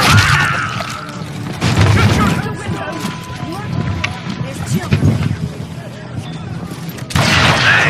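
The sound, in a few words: shotgun gunfire in video game Call of Juarez: Gunslinger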